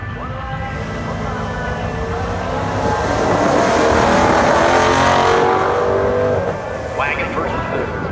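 Burnout at a drag racing strip, a Dodge muscle car engine revving hard with a loud, sustained roar that swells and then eases, while an announcer talks over the track speakers.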